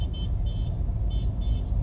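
Old school cars roll slowly through a Seattle viaduct tunnel, a loud low engine rumble filling the space with several short horn toots repeating over it.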